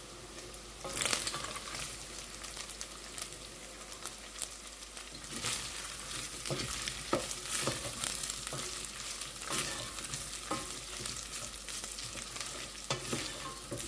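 Carnitas toast in a hot pan with a continuous crackling sizzle, broken by repeated scraping and stirring strokes of a spatula over about fourteen seconds.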